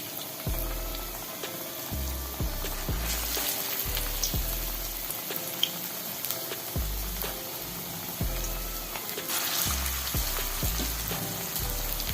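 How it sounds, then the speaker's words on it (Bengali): Flattened biuli dal fritters frying in hot oil, a continuous crackling sizzle with a repeating low rhythmic thumping underneath, close and alone without talk. "এইভাবে যেমন আমরা পেঁয়াজি ভাজি, এই ফ্ল্যাট ফ্ল্যাট করে আমি ছেড়ে দিচ্ছি।"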